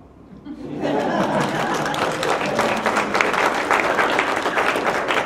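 An audience at a speech contest bursts into sustained applause mixed with chuckles and laughter, swelling quickly after a brief quiet start and staying loud throughout.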